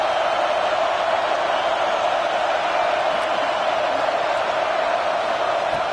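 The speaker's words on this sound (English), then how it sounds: "And this crowd coming to life here, trying to help the defense get a stop with the offense pinned back." Stadium crowd at a college football game roars in a steady, loud wash of cheering that holds for the whole stretch, with no distinct voices standing out.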